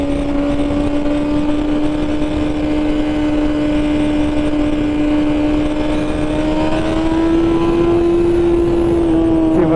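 A 2021 BMW M1000RR sportbike with an ECU flash accelerates hard out of a turn, its engine a loud, continuous high-revving whine that climbs steadily in pitch near the end, heard alone without talk.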